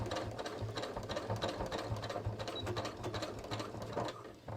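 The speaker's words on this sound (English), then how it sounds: "When I get to my where I stopped taking it out, I'm just going to overlap that a couple stitches." A sewing machine stitches across a jeans waistband in a steady, rapid mechanical chatter, close and continuous for several seconds, with a constant motor hum underneath and no talking.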